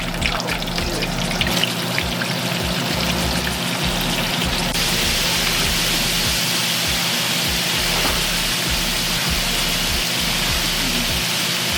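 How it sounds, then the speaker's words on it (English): Shark meat sizzling in a pan of hot oil, a dense continuous crackle and spit with steady bubbling, close and even throughout with no talking. "I believe you gotta put some oil so you can cover the meat with the fish so you can fry properly."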